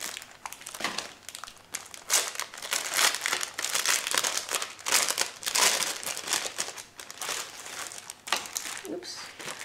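Crinkly plastic packaging being pulled open around a hanging item, with bursts of crumpling and crushing throughout at close range; a voice speaks briefly over the handling.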